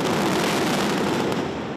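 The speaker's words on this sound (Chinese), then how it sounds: "七彩烟火冲上天际" Fireworks burst in a dense, continuous crackle at a temple festival welcoming the guest king in Budai, Chiayi, a loud unbroken barrage that lasts throughout before cutting off abruptly.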